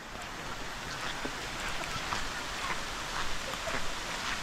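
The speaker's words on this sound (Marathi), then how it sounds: "मस्त पाऊस पडतो" Steady rain patters down outdoors near a river in rural Konkan, a dense even hiss with scattered drops, continuous and moderately loud throughout.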